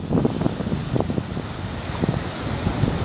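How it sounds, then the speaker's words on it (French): Strong headwind gusts across the north jetty at Port Ouest the day after Cyclone Batsirai, rumbling into the microphone over the constant surf, loudest at the start and then holding steady. "le vent de face."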